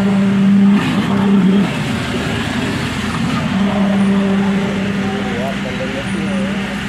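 A vehicle engine is revved at a community clean-up with a fire service crew, a loud steady drone with rising pitch swells, heard close beneath continuous background noise and voices.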